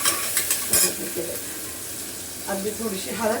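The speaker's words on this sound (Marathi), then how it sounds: "कांदा टमाटा मस्त परतला जात आहे" Onion and tomato sautéing in a home kitchen pan for chole masala, a soft sizzle with stirring scrapes and clinks, with someone talking over it.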